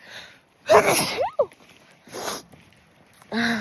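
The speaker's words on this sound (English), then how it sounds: "I felt a sneeze coming on." A close, sharp sneeze bursts out, followed by a short sniff and breathy sounds, then a brief bit of a voice at the end.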